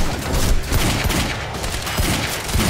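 Rapid bursts of gunfire in the video game Quantum Break, a dense, crackling volley of shots running steadily through the moment, with no talk over it.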